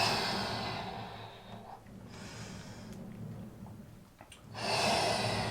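Slow, deep breaths in and out during a reformer Pilates session, long airy exhalations rising and falling close to the microphone without speech.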